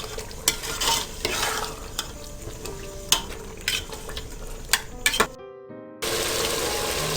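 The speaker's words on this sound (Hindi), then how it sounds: "दाल को खूब अच्छी तरह से भूनें।" White lentil dal fries in a pressure cooker, sizzling steadily as a spoon stirs and scrapes through it with repeated sharp clinks against the pot, then a brief gap before the frying hiss resumes.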